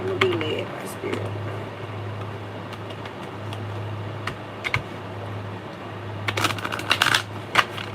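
A Moonology oracle card deck is shuffled close by in short riffling bursts over a steady low hum, with a few soft taps between them and louder flicks near the end.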